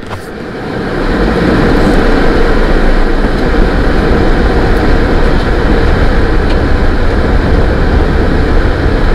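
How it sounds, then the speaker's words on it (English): A car's air conditioner blows a loud, steady rush of air continuously close up, a dense broadband roar with no breaks, while the car is stationary. "it's my air conditioner. I'm not even moving. That's why it's so loud"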